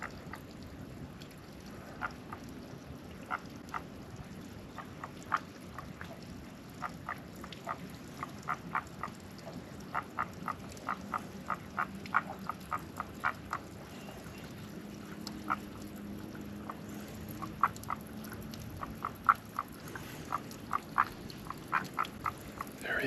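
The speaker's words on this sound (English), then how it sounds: "It's highly likely this is the mountain ghost frog or the Cape Dizer frog." Short, clicky frog calls repeat in irregular bursts over a quiet outdoor hiss on Table Mountain, Cape Town, moderately near, with no voices.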